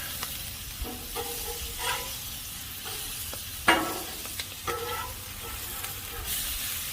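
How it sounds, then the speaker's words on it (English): Butter and oil sizzle on a Blackstone griddle with cabbage steaks cooking, a steady close hiss broken by several sharp spatula scrapes and clicks, with no talking. "I'm going to put a little butter down here. Put some more oil for them."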